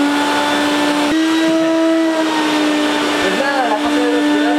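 A vacuum cleaner runs loudly and steadily, its motor holding a high, droning whine with slight shifts in pitch.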